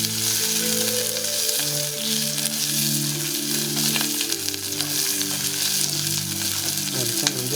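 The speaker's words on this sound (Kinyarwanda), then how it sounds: "Ibitunguru byacu bikaranga bigasa nkaho bifashe amavuta gakeya" Onions fry in a little oil for carrot soup with a steady, even sizzle and crackle, close by. Sustained musical tones play underneath throughout, with no talking.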